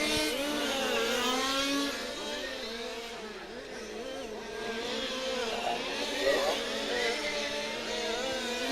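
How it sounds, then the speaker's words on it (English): Radio-controlled Formula 1 model cars race in an electric-class European championship final in Luxembourg, their motors whining and buzzing steadily as they pass, while a commentator talks over them. "we're down to 6 cars in this Semifinal B for Formula 1 here"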